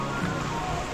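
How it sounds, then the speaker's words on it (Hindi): Rain falling in the Naran valley near the Kunhar river during a rafting trip, a soft continuous patter with faint water wash, fairly quiet and brief. "बारिश हो रही है इस टाइम।"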